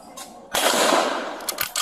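A single loud gunshot from police body camera footage, a sharp burst that rings out for about a second, followed by a few fainter clicks and knocks.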